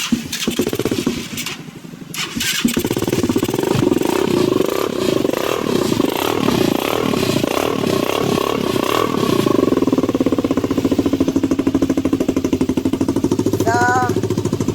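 A converted Honda C200 motorcycle engine running with a steady, rapid clattering putter, close and loud, continuing for the whole stretch with a brief voice near the end.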